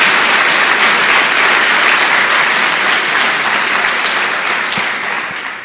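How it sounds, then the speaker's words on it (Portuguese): Church congregation applauding together, a loud, dense wash of clapping that holds steady and then begins to taper off near the end, with no voices over it. "Dê uma salva de palmas ao Senhor."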